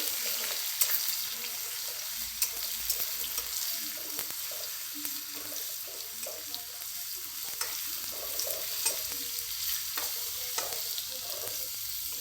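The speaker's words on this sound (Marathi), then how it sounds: "हे बघा आता अद्रक लसूण छान तळून घेऊ" Ginger and garlic fry in a pan while being stirred, making a continuous soft sizzle with light, irregular scrapes and taps from the utensil.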